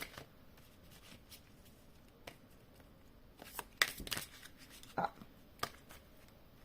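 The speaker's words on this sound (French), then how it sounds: "Je vais tirer encore une petite carte du tarot onirique" Dream tarot cards shuffled by hand up close, producing soft riffling flutters and sharper card snaps clustered in the latter half, with a brief murmured voice.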